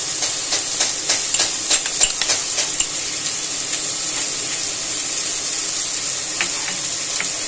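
Spice paste of soaked ground coriander, cumin, chili and turmeric goes into a pan of frying vegetable stalks for a shrimp curry, raising a steady loud sizzle with a quick run of stirring taps and scrapes at first, then later a few more.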